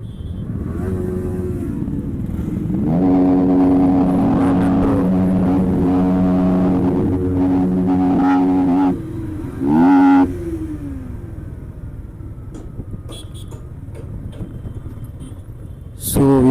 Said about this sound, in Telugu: సో గైస్ బైక్స్ అయితే అందులో స్టార్ట్ చేస్తాం